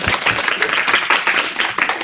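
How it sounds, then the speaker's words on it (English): Short burst of audience applause after a talk session, loud and close, with quick irregular clapping from a small group lasting about two seconds. "Let's give her a round of applause"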